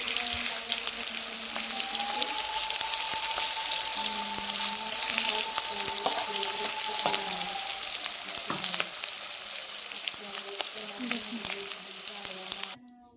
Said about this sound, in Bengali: লাল লাল করে ভেজে নেব ডিমটা দিয়ে করে ভেজে নিই